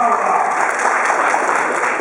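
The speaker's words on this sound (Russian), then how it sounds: "Да, аплодисменты вот." Audience applause at an art exhibition opening in an artists' union hall, a short burst of dense clapping from a modest crowd, steady and fairly close, with voices mixed in.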